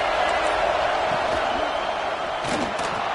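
Football stadium crowd at a college game against Texas A&M, a dense, steady roar of cheering and noise rising behind the defense on a big third down, loud and continuous throughout.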